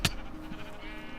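A single short bleat from a sheep in the Minecraft CrazyCraft game, close and clear, with a faint click at the end.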